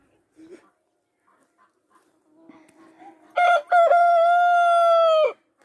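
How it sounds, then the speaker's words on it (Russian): Domestic birds in a morning yard: faint clucks and soft calls, then a rooster crows loud and close, one long sustained cock-a-doodle-doo ending abruptly. "Вот мои птицы. Птицы, птицы. Поют с утра, поют."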